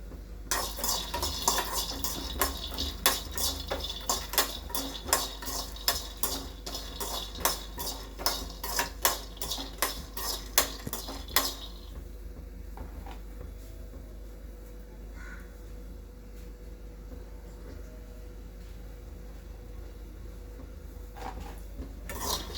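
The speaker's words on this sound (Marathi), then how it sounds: "इथं मी सगळं साहित्य थोडं तेलामध्ये भाजते." Ingredients for curry leaf chutney roast in a little oil in a pan, with a utensil scraping and clinking against it in quick rhythmic strokes for about eleven seconds, then a quieter low sizzle with occasional taps.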